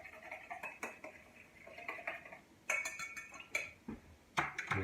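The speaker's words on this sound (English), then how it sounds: "We'll whisk that together." A dipping mixture for tofu nuggets is whisked in a bowl, producing quiet, irregular metallic clinks and taps against the bowl, close by, with no speech.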